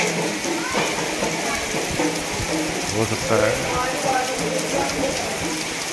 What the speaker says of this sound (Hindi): बहुत तेज बारिश हो रही है, आप खुद देखिए